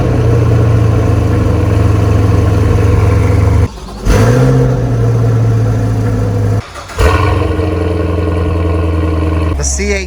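Chevrolet Corvette C8 mid-engine V8 on standard exhaust, revved loudly and steadily close by; two brief throttle drops cut the roar before it climbs back, with a final blip near the end.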